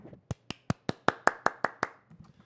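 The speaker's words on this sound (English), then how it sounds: "Let's clap it up for them, please." A short run of about ten crisp, evenly spaced hand claps, close and fairly loud, followed by quiet with faint low background noise.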